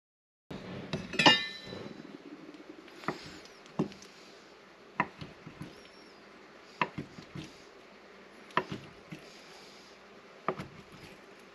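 A knife cuts soft bread dough into thirds on a board, giving a series of faint, separate taps and presses spaced a second or two apart in a quiet room.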